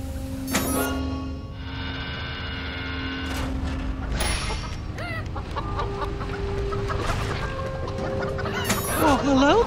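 Chickens cluck repeatedly in the Family Guy Back to the Multiverse video game, with a rooster-like squawk and bursts of game sound effects and music around them, fairly loud and close.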